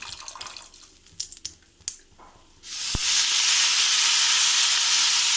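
Fresh mint leaves drop into a hot pan for chutney: a few soft clinks and taps, then a sudden loud, bright sizzle that surges up and keeps hissing steadily close by.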